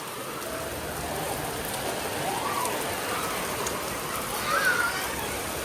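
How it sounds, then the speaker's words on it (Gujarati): Heavy rain falls in Rajkot as a dense, steady hiss of drops striking surfaces, close and continuous, with a few faint whistle-like tones rising briefly above it. "વરસાદ તો હવે ભૂકા કાઢે હો ભાઈ રાજકોટમાં"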